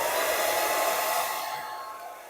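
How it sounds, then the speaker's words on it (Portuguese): A hair dryer blows steadily to dry paint on a handmade Christmas card, a close, continuous broadband whoosh that holds level and then gently fades toward the end, with no talking. "eu vou dar uma adiantada com o secador de cabelo"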